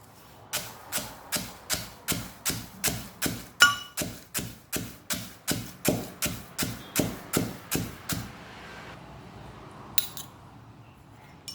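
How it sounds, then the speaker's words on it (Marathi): Peanuts and cardamom are pounded in a mortar and pestle, about twenty sharp, evenly spaced thuds in a steady rhythm, loud and close, then stopping with a couple of faint knocks afterward. "सुरुवातीला हे बारीक कुटून घ्यायचं आहे आपल्याला"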